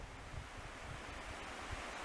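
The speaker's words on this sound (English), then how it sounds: "I hear a lot more water though" Water flowing steadily in a stream near its headwaters in Shenandoah National Park, a constant broad rushing wash with some low wind rumble on the microphone.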